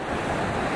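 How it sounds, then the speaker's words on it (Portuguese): Rushing water at the Cachoeira da Torre waterfall in São Bernardo do Campo, a steady broadband roar close to the microphone with no talk. "Cachoeirão da Torre!"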